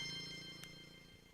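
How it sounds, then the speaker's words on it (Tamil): A phone rings in the morning in a Tamil TV drama scene, a steady electronic ring tone heard alone for a little over a second. "மோகன் அண்ணன் இவர் எதுக்கு காலையிலேயே ஃபோன் பண்றாரு?"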